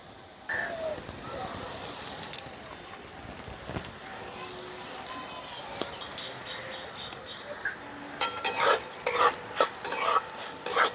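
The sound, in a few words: stirring fried potatoes with salt, turmeric and chili powder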